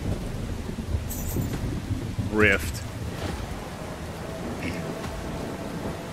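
Steady rain and a low rumble of thunder in the video game Once Human, a dense wash that runs the whole time, with a brief voice breaking through partway.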